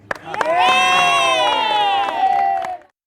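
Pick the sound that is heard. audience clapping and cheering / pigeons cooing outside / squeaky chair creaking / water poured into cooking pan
audience clapping and cheering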